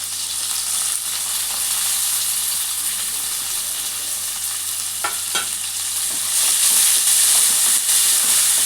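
Sliced onions, green chillies and a little mint fry steadily in hot oil in a pan, giving a continuous close sizzle with faint stirring clicks and a louder hiss toward the end, with no voices.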